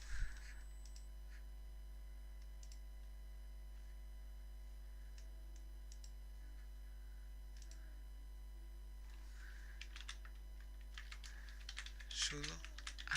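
A password goes in on a computer keyboard in a Linux terminal during an apt update, light sparse key taps over a steady mains hum, with a denser burst of typing near the end.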